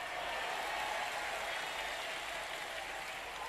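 Audience applause, a dense steady patter of many hands clapping at a moderate distance, fairly faint, lasting a few seconds.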